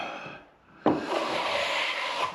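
An 18-inch carbon steel plastering trowel skims a ceiling, making a close, abrupt scrape that settles into a steady rubbing swish after a brief quiet pause.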